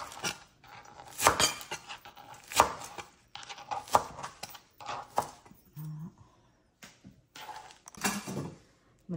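A knife chops garlic chives on a cutting board in a home kitchen, producing a run of crisp, irregular close-up thuds and clicks with brief pauses, no talking over them.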